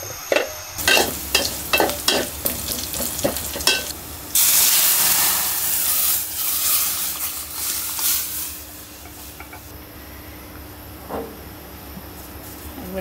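Onion, green chili and garlic hit hot oil for a dal tempering, bursting into a loud sizzle with stirring clatter, then settling into a steady, softer frying hiss.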